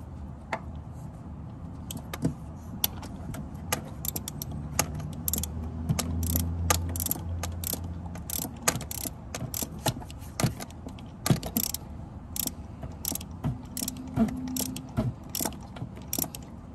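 Ratchet wrench tightening a spark plug on a Honda Pilot or Odyssey engine, giving a steady run of quick close clicks in short bursts, with no talking.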